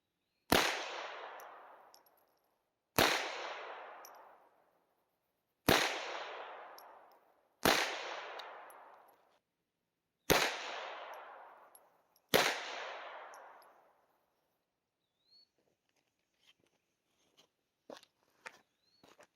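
Six single shots from a Sig P322 pistol at a shooting range, crisp sharp reports spaced about two to three seconds apart with short echoing decays, followed by faint clicks and small handling noises.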